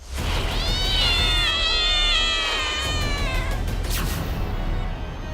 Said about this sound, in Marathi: पुण्यात एका फ्लॅटमध्ये तब्बल 350 मांजरं